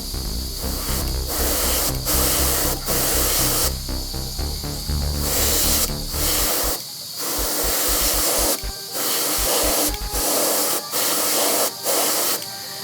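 Thinned white paint, one part paint to three parts thinner, sprays on in a light coat over a darker base on a civilian Haunebu II model build, a close, steady airbrush hiss in several bursts separated by brief pauses.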